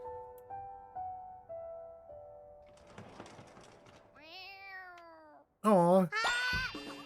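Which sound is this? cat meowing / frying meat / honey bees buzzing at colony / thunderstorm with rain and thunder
cat meowing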